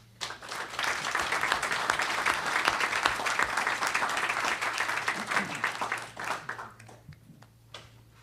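A conference audience at a 9/11 hearing in Toronto bursts into loud, sustained applause that holds for about six seconds before tapering off to a few scattered claps.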